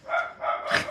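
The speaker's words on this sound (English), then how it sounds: "Y'all hear my dogs?" Dogs barking at home, three quick yappy barks in a row, fairly close and clear with no talking over them.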